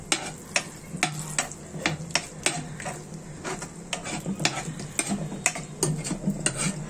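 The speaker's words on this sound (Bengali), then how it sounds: "তরকারিটা কষিয়ে নিয়ে" Koi fish curry sautéing in a pan: a spatula scrapes and clicks against the metal in a quick, uneven rhythm over a soft background sizzle, with no talk.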